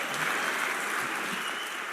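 A virtual audience applauds during a live online session, giving a dense, steady wash of clapping and light cheering that stays even and fairly close throughout, with no other sound on top.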